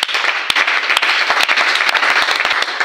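Church gathering audience bursting into dense applause in praise of the Lord, many hands clapping loudly and close, with a few sharper individual claps standing out.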